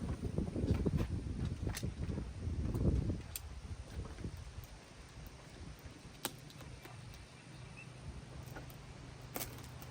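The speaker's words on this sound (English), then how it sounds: "It's a bit windy out here today again" Gusty wind buffets the outdoor air with low rumbling, strongest in the first few seconds, then settles into a steady background blow.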